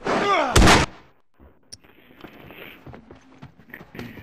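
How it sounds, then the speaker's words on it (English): Gunfire in The Last of Us multiplayer: one loud, close, sharp blast opens the scene, followed by faint footsteps and small scattered game noises. "Why are you firing your gun?"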